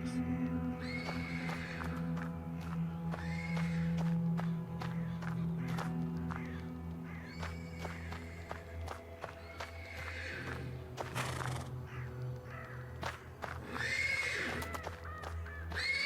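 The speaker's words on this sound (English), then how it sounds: "The persistent neighing of a horse can be heard from the stables." A horse neighs repeatedly from the stables in the PC game Black Book, whinnies rising and falling at intervals over a steady game soundscape amid faint hoof clops and ambient music.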